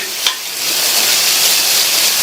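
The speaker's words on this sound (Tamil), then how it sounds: "இந்த வெங்காயம் நல்லா வதங்கி வரட்டும்." Onion sautéing with salt in a pan for upma: a close, steady frying sizzle that rises after a brief stir clink and holds at an even hiss.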